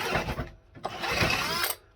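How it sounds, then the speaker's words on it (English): A power drill with a holesaw whirs and grinds through wood, its motor straining and bogging down in uneven bursts, close up. "But a little drill didn't like that much."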